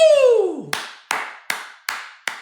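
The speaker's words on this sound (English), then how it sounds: "Even I have to give them a round of applause for that one" A single person claps slowly, five sharp, separate hand claps in an even rhythm, close and crisp, after a falling tonal sound at the start.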